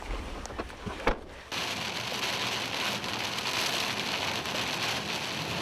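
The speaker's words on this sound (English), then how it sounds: "The rain's coming down really hard right now." Heavy rain in an arid desert area during a thunderstorm, a dense, loud, steady hiss of downpour that begins abruptly after a few scattered drops and keeps roaring without a break.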